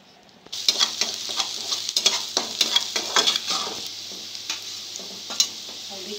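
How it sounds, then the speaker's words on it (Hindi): Cauliflower and potato paratha filling being mashed in a hot pan, with repeated scraping, stirring and clinking of a utensil over a steady sizzle, close and fairly loud, no talking. "अच्छा तरीका से मसलूंगी।"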